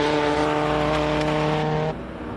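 A loud race car engine at the Simola Hillclimb roars steadily at high revs, then drops in pitch and volume as it eases off.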